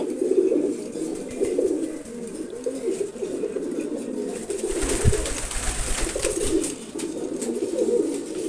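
Continuous low cooing comes from a red male Giribaz racing pigeon, close and fairly loud, with a brief soft thump partway through.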